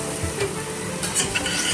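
Chunks of young jackfruit frying in a pan, a steady close sizzle with scraping stirs and a couple of brief clinks, no voices over it.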